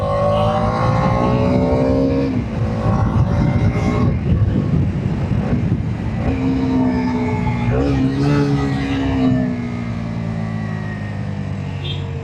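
Bajaj Dominar 250 motorcycle ridden and turned, engine revving up and down in rising and falling sweeps, loud and close, with brief talk in the middle.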